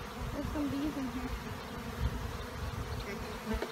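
Honey bees hum close by at an open Langstroth hive during a varroa mite check, a steady buzzing drone with one bee's pitch rising and falling as it flies near, plus a few soft knocks.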